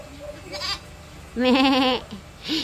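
Goats bleating on a farm, a few wavering calls: a short one, then a longer loud quavering bleat, and another starting at the end, fairly close with faint background noise.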